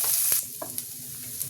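Onion, ginger and garlic fry in a pan with a steady bright sizzle, broken by a few soft clicks and scrapes of stirring.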